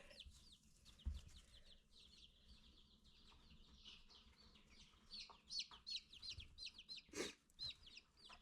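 Chickens, including young chicks that start out brown, cluck and chirp softly at close range in short, irregular bursts that grow busier toward the end, with a brief thump partway through.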